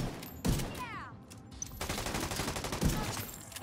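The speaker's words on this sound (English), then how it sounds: "Look how accurate this is when you blind fire." Rapid gunfire in The Division 2 as a character blind fires from cover, with sharp bursts of shots, a couple of heavier booming reports, and a steady rattling barrage through the rest of the stretch.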